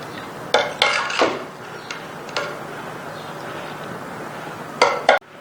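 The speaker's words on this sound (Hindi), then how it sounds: "दम आ गया है, हम उतार लेते हैं इसको मिक्स कर लें।" Cooked mutton biryani is stirred in a cooking pot, with a spoon giving a few sharp metallic clanks and scrapes against the pot, spaced irregularly over a quiet kitchen background.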